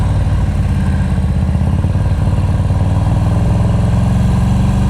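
A motorcycle engine runs steadily at low revs during slow-speed riding practice, a close, continuous mid-pitched idle-like rumble with no talk.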